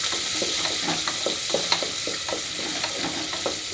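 A large chopped onion sautés in a pan with mustard seeds already popped, giving a close, even sizzle broken by rhythmic spatula scrapes, no voice.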